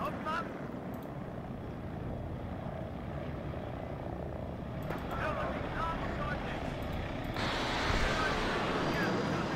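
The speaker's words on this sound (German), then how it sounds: "Da rechts kommt ein Hubschrauber." A helicopter in the military strategy video game WARNO drones steadily with a rotor rumble that thickens and grows louder over several seconds, mixed with other game effects beneath.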